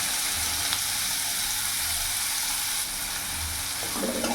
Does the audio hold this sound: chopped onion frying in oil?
yes